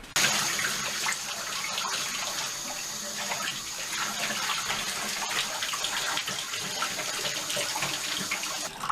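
Steady tap water runs continuously while a synthetic cosplay wig is rinsed under a gentle flow, an even hissing splash close by with no talking over it.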